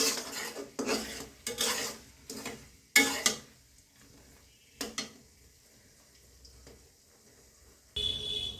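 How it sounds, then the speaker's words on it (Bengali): Spices and cumin powder being fried for a sun-dried oil pickle are stirred in a pan in several scraping bursts, each followed by quieter pauses, then one more scrape at the end. "এখন সব উপকরণই ভালো করে ভেজে নিচ্ছি"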